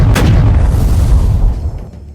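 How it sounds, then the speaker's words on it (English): A British brig fires a full cannon broadside in a Black Seas naval battle, producing a loud, deep, rumbling boom that rolls on and slowly fades over about two seconds. "A full broadside is ordered."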